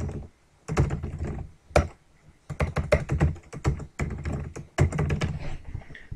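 Someone types a name on a computer keyboard in quick bursts of close, crisp key clicks, with short pauses between runs of keystrokes and no voices.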